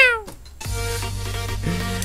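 A pet cat being stroked gives one close, clear meow with a falling pitch. A steady low hum takes over once the meow ends.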